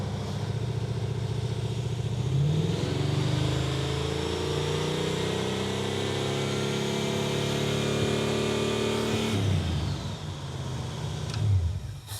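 A 1971 Chrysler Newport V8 idles and revs at part throttle close by, with a steady loud drone that rises around the third second, holds, then drops and blips again near the end.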